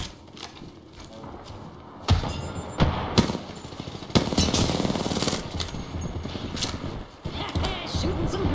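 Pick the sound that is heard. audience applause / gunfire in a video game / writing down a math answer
gunfire in a video game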